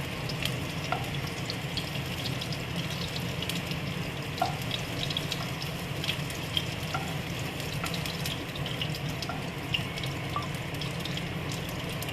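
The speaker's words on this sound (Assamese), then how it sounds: "পিঁয়াজখিনি লৰোৱা হৈছে এতিয়া মই এইখিনি কাঢ়ি থৈ দিম বেছি ভাজি থাকিব" Onions are stirred and fried in a pan, giving a steady, moderate sizzle under a low background hum, with occasional light clicks of a spoon against the pan.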